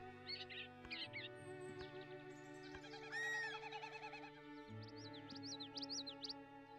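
Chirping bird calls with hooting, owl-like notes sound over a steady layered game soundtrack in a bird-themed video game, several bursts of tweets coming and going throughout.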